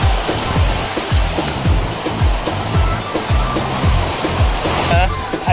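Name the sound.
Muktai waterfall rushing water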